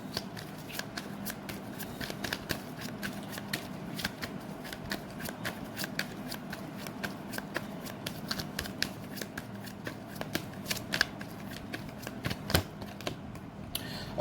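Tarot cards are shuffled by hand in a close, steady stream of rapid riffling flicks and soft slaps, continuous and moderately loud with no talking.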